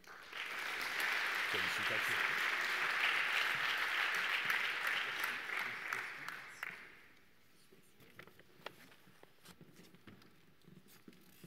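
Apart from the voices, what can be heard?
applause for the award winner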